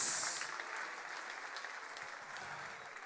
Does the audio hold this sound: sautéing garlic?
no